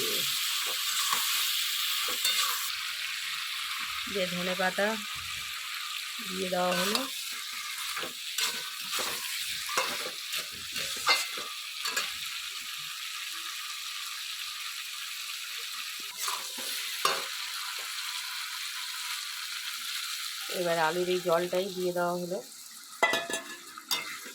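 Boiled potatoes frying in a pan give off a steady sizzle, broken by repeated scraping strokes of a stirring spoon against the pan.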